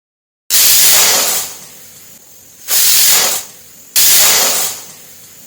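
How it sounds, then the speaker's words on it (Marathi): A kitchen pressure cooker vents steam after whistling while a mango puran poli is being made, giving three loud, close hissing bursts, each starting sharply and tapering over a second or so. "आपल्याला कुकरची पूर्णपणे वाफ जाऊ द्यायची"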